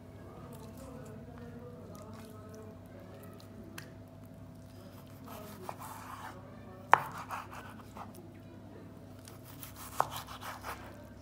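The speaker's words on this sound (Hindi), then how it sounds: "मेरे पास 350 ग्राम चिकन है और इसे मैं फिले टाइप में जो है वो मैं इसकी कटिंग करूँगी" A knife slicing 350 grams of chicken breast into fillets on a board, quiet soft cuts with a few sharper taps of the blade, while someone talks over a low steady background hum.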